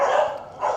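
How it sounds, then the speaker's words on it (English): Dogs barking close by outdoors on a muggy day, two quick loud barks in rapid succession. "The dogs are hugely distracting right now."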